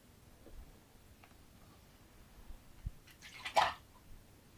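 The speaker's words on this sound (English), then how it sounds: "You want to dump out your glass." Liquid is dumped out of a cocktail glass being chilled for a moonshine martini, a short splashy pour rising near the end of an otherwise quiet stretch with faint clinks.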